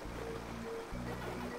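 Steady rushing water from a waterfall in the video game Pac-Man World Re-Pac, a continuous broadband wash with a low tonal hum of game music beneath, constant in level throughout.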